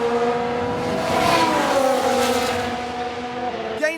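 In the F1 Manager 22 racing game, a Ferrari race car accelerates with a rising, whining engine note that swells and fades, followed by a brief sharp burst at the end.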